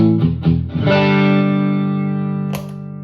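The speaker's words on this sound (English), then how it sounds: "It almost sounds like what you get for power tube overdrive." An electric guitar through a MenditTone Tube Overdrive pedal with gain maxed plays a few picked notes, then one sustained chord that rings out and slowly decays, thick and saturated.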